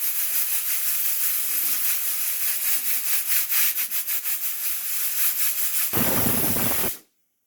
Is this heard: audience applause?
no